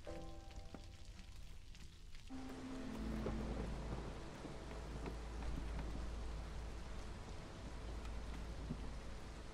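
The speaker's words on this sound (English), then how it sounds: "It's raining, can't you see? I can't control the weather." Steady rain hissing with low rumbling thunder in the fantasy game Against the Storm, a continuous soft downpour that swells slightly after a brief musical note fades, with no talking.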